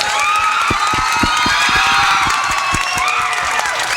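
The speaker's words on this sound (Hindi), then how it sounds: "इन सब कलाकारों के लिए, अमित भाई के लिए, जेडी भाई के लिए, सबके लिए जोरदार ताली बजाइए आप लोग।" A crowd claps loudly for performers at a live stage show, a dense sustained patter of applause with faint cheering and shouts mixed in, close and steady for the whole stretch.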